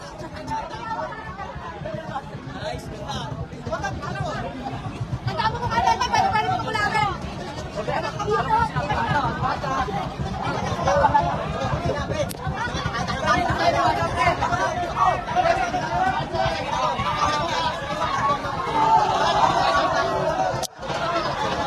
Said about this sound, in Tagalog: Grabe yung hiyawan ng mga tao.